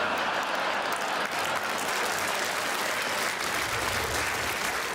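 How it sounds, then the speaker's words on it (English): A live comedy show audience breaks into loud, sustained applause, a dense crowd clapping steadily throughout with no voices on top. "Don't clap!"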